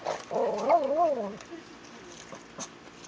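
A dog gives a loud, wavering howl that slides up and down for about a second, then fades into quieter whimpers and soft sounds close by.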